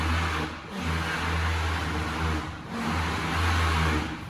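A Hyundai car's engine idles steadily and fairly loud with a low continuous hum and a brief dip in the middle, while the car has an airbag fault code B1346 with driver airbag resistance too high.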